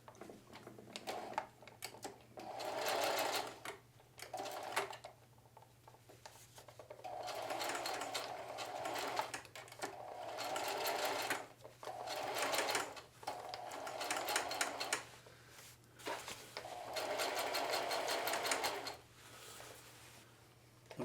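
Sewing machine stitching denim jeans, running forward then reversing for a double back stitch, in repeated loud bursts of rapid mechanical clatter separated by short pauses, with a steady low hum underneath.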